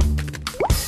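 Water drips from an old wall in a cartoon, with a few soft liquid plops and a rising squishy drip tone layered over a low hum.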